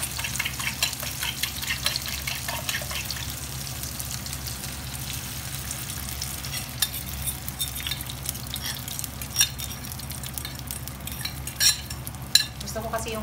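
A utensil stirs egg into fried rice in a hot pan, with repeated clinks and scrapes over a soft continuous sizzle.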